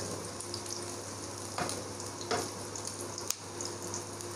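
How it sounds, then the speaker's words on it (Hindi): Onions frying in ghee in a pan, a steady close sizzle with a few brief stirring scrapes and clinks, no voices. "प्याज़ों को हम लाइट गोल्डन कलर का मतलब देंगे, आने तक इसको फ्राई करेंगे घी में।"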